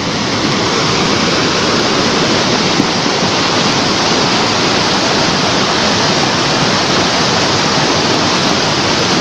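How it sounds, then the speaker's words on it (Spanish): Floodwater rushes along a road near San Isidro, Tenango, as a loud, continuous broadband roar. It holds steady throughout with no talking. "la fuerza del agua, la fuerza de la naturaleza"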